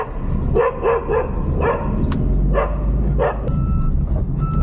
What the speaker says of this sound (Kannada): ಡಾಗ್ ಇದೆ, ಇದು ನಾಯಿದೆ.